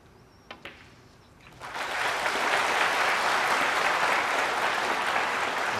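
Snooker spectators at a Shanghai 2019 match between O'Sullivan and Robertson start clapping after a quiet stretch with a couple of soft knocks, and the applause swells into sustained, steady clapping.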